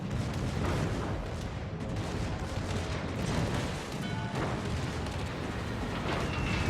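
Secondary and rear guns of a warship blasting in World of Warships, a dense, continuous rumble of booming naval fire with overlapping distant and near explosions and no talking.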